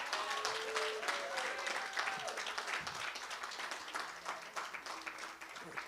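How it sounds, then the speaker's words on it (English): Applause from a church audience at a Kwanzaa celebration, many hands clapping steadily at a moderate distance, with scattered voices mixed in beneath it. "can I have just one more little applause for Adrian?"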